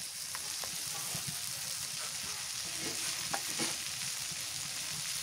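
Tiny dried shrimp sizzle steadily in hot oil in a pan, a continuous close crackle with a few soft stirring scrapes throughout.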